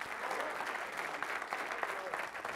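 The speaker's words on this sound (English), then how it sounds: "give the Lord a hand clap of praise" Church congregation gives a steady round of hand claps of praise, a dense, even wash of applause with crowd noise throughout.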